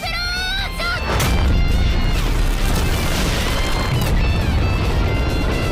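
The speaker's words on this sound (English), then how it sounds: "Megumin's final explosion" Huge anime explosion spell cast by Megumin in Konosuba, opening with brief bright tones before a massive booming blast erupts and roars continuously at full loudness with deep rumble to the end.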